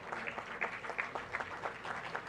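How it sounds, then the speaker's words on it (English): Faint, brief clapping from an audience welcoming dignitaries at a maritime leaders' event, a soft patter of hands heard at some distance and at low volume. "Let's have a huge round of applause for our esteemed dignitaries here."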